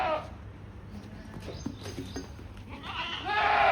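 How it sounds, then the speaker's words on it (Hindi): A young goat kid on a goat farm bleats a few short cries near the microphone amid faint farmyard noise, with a louder burst near the end. "ये बकरी का बच्चा है।"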